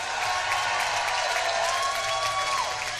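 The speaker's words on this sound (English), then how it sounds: "she got a big cheer from the Welsh crowd supporting her" A crowd cheers and applauds for the fencing finalists from Singapore and Wales at an individual medal match, with steady, dense clapping and cheering filling the whole stretch, close and loud.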